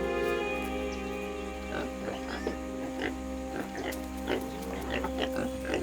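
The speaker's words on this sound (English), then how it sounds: "Several thousand strange-looking pigs live in a 100-kilometer square area." Pigs grunt and snort in short, irregular bursts over a steady low hum, fairly close.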